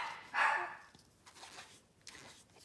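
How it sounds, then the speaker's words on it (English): A single loud dog bark rings out up close in a quiet indoor room, followed by faint scuffling and small noises. "Pardon the barking up there. I think my pup wants some attention."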